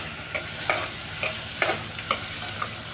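Finely chopped onions and green chillies fry in oil for an Andhra-style mutton curry, a steady soft sizzle broken by several sharp stirring scrapes of a spoon against the pan, with no talking.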